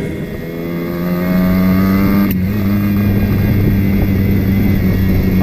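A Simson moped engine with a nitrous oxygen system drones loudly up close, rising in pitch as it accelerates from about 30, then holds a strong steady roar after a brief click.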